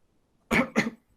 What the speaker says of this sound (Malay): Sila tu imam batuk.